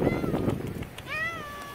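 A stray cat living in an apartment playground meows outdoors on a cold winter day, giving a single clear, rising-and-falling cry near the end after a brief stretch of nearby voice.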